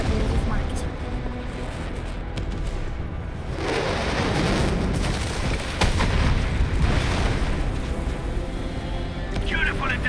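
Artillery strike in the game Arknights: Endfield: a steady, loud, dense wash of rumbling booms and blasts rolls on for about ten seconds, with brief bright bursts around the middle and near the end.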